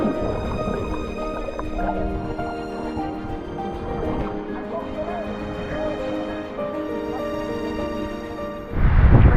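Rushing water from a waterfall pours into a freezing-cold, crystal-clear pool on Camiguin island, making a steady, loud splashing wash throughout. A sudden heavier burst comes near the end.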